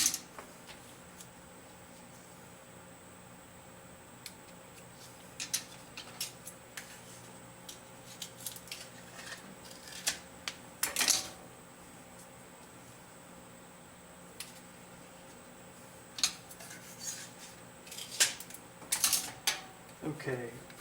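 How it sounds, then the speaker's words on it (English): Tape strips torn and pressed across a stainless steel plaque held in a vise, making sparse, sharp crackling rips and taps spread irregularly over a quiet room, a voice faintly present. "we are going to tape 3 strips across"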